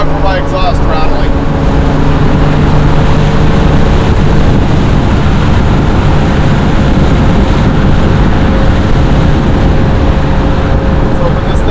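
A 1972 Plymouth Road Runner's engine roars loud and close under load with a steady, rough drone and a rattling exhaust, sustained throughout while a voice speaks over it.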